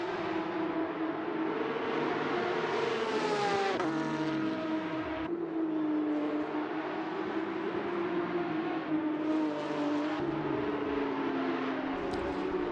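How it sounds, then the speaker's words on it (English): Porsche 911 GT3 RS race cars at Donington Park drone continuously, engines rising and falling in pitch as they rev and downshift through the downhill curves, loud and unbroken with no talk. "see how the cars take those curves there downhill"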